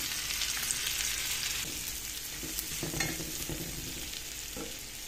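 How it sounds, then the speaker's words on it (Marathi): Onion sizzles steadily in butter in a pan for butter chicken, a continuous close frying hiss broken by a few soft stirring scrapes, with no voices. "त्याचबरोबर एक कांदा छान परतून घेऊ"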